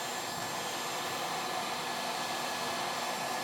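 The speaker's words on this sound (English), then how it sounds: "let me get this bearing good and hot" A heat gun warms the bearing on a Stihl 026 chainsaw bottom end, giving a steady, even, close blowing roar that runs unbroken throughout with no talk.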